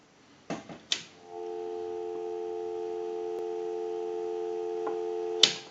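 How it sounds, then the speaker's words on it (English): A steady dial tone hums on a Western Electric 202 telephone line, continuous and clear for several seconds after a few handset clunks and clicks at the start, with another click near the end. "We'll give you some dial tone"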